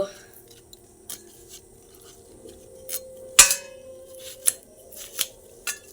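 Vegetables being cut, heard as a scattered series of sharp, quiet snips and chops at an irregular pace over a low, steady background hum.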